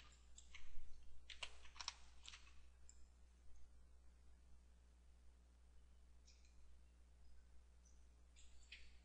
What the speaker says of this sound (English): I actually hit the number 4 on my keyboard